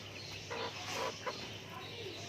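An Aseel chicken gives a few soft, short clucks in a village yard, faint and close against a low background hum.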